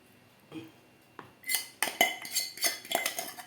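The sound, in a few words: spoon stirring kishk in a pot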